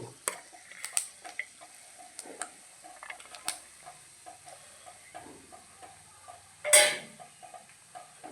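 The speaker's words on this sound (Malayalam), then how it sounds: "ചെറിയ ഉള്ളി എന്നാലും മൂത്തോട്ടെ ഇട്ട് കൊടുത്തു" Small shallots fry in oil in a pan with mustard seeds and urad dal: scattered close pops and ticking crackles over a faint sizzle, with one louder scrape of stirring.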